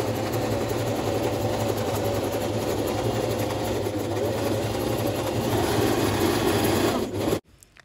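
Sewing machine stitching the legs of a baby legging made from an old T-shirt, a continuous fast mechanical whir and hum at steady volume that stops abruptly near the end, with no talk.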